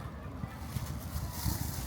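Breezy outdoor wind during a spring picnic in Japan, a steady rushing buffet across the microphone with faint low gusts and indistinct background voices.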